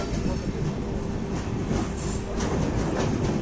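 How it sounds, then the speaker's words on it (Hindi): Una Janshatabdi Express rolling into Ambala Cantt station, a steady loud rumble of wheels and carriages with faint rhythmic clatter throughout, no talk over it. "5:48 पर जो है अपनी ट्रेन पहुंच चुकी है अंबाला कैंट रेलवे स्टेशन पर।"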